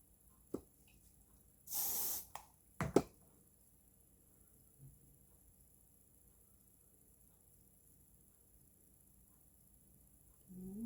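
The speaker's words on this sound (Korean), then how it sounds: "핀 스프레이를 한 번씩 뿌려서 정리해 주시면 훨씬 더 깨끗한 느낌이 나겠죠." A hair finishing spray gives one long aerosol burst while hair is being styled, then a few soft clicks and taps in an otherwise quiet room.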